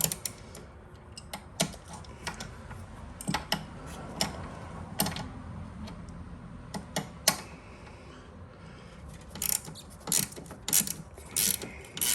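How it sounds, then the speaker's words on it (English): A ratchet wrench clicking while loosening bolts during paddle and scraper work on a Toro single-stage snow thrower, heard as bursts of rapid close ratcheting clicks separated by pauses and quieter handling noise. "I love these ratchets, but they like to change directions on you"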